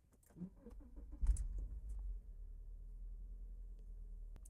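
A Subaru car engine, just tuned up with air filter, MAF, throttle body and PCV valve work, cranks with a brief jangle and catches, then settles into a low, steady idle rumble, faint and close.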